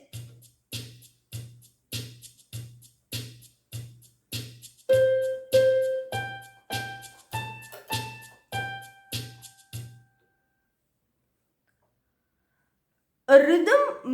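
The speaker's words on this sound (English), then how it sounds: "The second one is techno pop." A techno pop rhythm from a home electronic keyboard pulses in a regular beat of crisp clicks and a low bass thump, joined by held melody notes, then cuts out into silence before a brief bright burst at the end.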